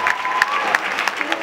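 Loud, continuous clapping fills a church hall as the congregation applauds, with raised voices and a few shouts mixed into the crowd noise.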